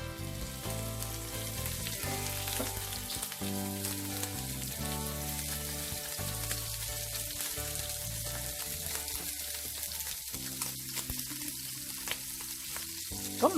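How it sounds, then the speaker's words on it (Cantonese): Shrimp fry in a pan for scrambled egg with shrimp, giving a steady low sizzle that sits beneath prominent background music throughout. "煎一煎嗰啲蝦先"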